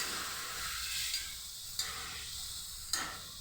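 Kidney beans and potato are added to frying masala, setting off a steady sizzling hiss with a few sharp clinks of the spoon against the pan, close and without any talk.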